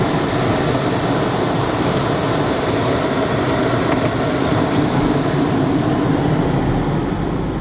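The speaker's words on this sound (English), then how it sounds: "Defrost for a moment." Inside a Mercedes CLK350 AMG Sport coupe, the defroster blower runs as a steady, loud broadband whoosh of rushing air, unbroken and close, with no talking.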